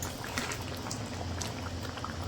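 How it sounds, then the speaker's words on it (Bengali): Okra frying in a home kitchen pan gives off a steady, dense crackle and bubbling hiss that runs evenly throughout, close and moderately loud with no talk over it. "এখন ভেন্ডি ভাজা হচ্ছে।"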